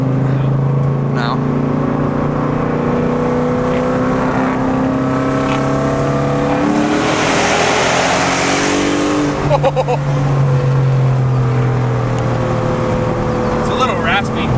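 A 5.0 V8 with an X-pipe exhaust revs loudly with a raspy, rumbling note that swells to a peak midway, and people talk nearby.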